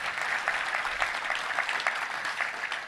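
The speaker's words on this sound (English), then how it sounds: "one more round of applause" Another round of applause from an audience at a touchdown club luncheon, a steady, moderately loud patter of many hands clapping, heard from a little distance.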